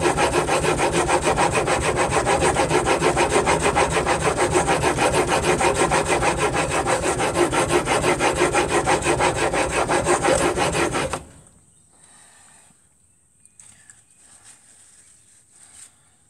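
A steel chisel is rubbed back and forth on a sharpening stone clamped tightly in a vise, a loud, dense, steady rasping scrape that runs continuously, then stops abruptly, leaving faint, sparse clicks and handling noises.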